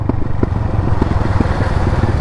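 A custom Hero Honda Karizma R motorcycle engine runs while riding, a loud, close, steady rumble with a throbbing pulse throughout.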